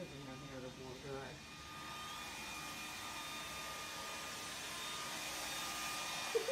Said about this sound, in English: He's in there warming himself up with the freaking blow dryer